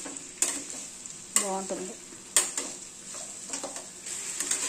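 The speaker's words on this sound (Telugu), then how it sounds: "ఆల్ వెజిటబుల్స్ వేసి బాగా ఫ్రై చేయాలి" Vegetables for fried rice sizzle steadily in a hot pan with butter and oil, with repeated stirring scrapes and clinks of a spoon against the pan, and a brief spoken word over the frying.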